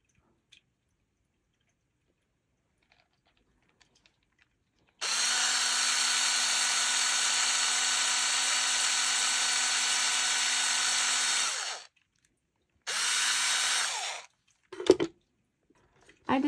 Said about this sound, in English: I decided to get a block to put underneath it and we're going to drill down.